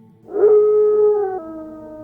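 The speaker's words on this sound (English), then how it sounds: "Your four-legged companion lets out a mighty howl" A dog companion in an Oblivion sleep story lets out a single sustained howl, loud and near, holding a steady pitch before a slight step down in tone as it fades.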